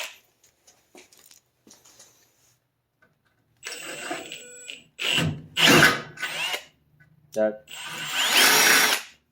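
Power drill boring a pilot hole with a quarter-inch bit in a car body, short whirring bursts that rise into louder grinding runs, close up after a few faint ticks and a word spoken.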